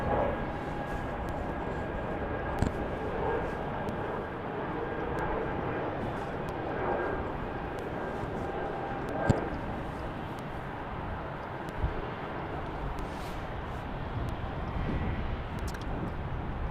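Airplanes take off at Salt Lake City airport, a distant, steady jet roar that fills the clip with a broad rumble and occasional faint clicks.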